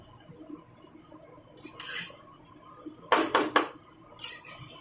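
A metal spoon scraping and clinking against a pan while rice is stirred and mixed over a medium flame, a few short distinct scrapes with quiet gaps between them.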